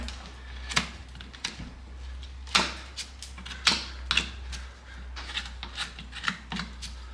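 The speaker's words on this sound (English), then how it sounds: "So I'll go straight to knifing it out." A hoof knife pares the concave sole of an old horse's hoof during shoeing, giving a string of short, close scraping cuts, each a crisp rasping stroke, irregularly spaced over a steady low hum.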